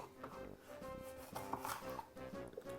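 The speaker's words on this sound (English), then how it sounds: "I'm just cutting up all of these ingredients because it's going to be needed." A knife chops vegetables for a Jamaican salt fish dish with a quick, irregular run of close, crisp cuts against a cutting board. Clinking and rubbing sounds come through softly underneath.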